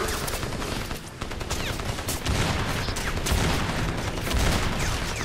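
An Uzi submachine gun fired in Crysis, a dense, continuous rattle of rapid shots that stays loud and close for several seconds.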